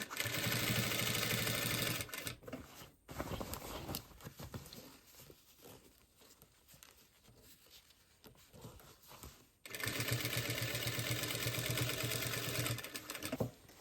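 A sewing machine runs in steady, fast bursts while stitching clothing with faulty tension, loud and close, stopping for a pause with quiet handling of fabric before whirring up again.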